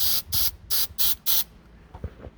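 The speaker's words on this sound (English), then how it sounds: "then you can go ahead and apply your spray" Five short bursts of aerosol foot powder spray in a steady rhythm, loud and close, each a sharp hiss, followed by a few soft handling bumps.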